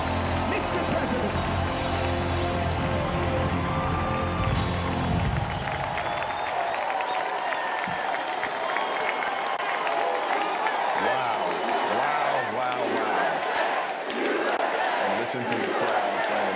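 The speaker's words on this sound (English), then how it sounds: "Listen to the crowd, friends." A Republican National Convention crowd roars and cheers in a large hall for the first few seconds, then drops to a rhythmic, distant chant under someone speaking.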